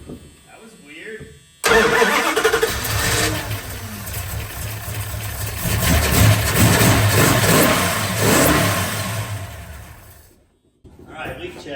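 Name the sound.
car engine starting and idling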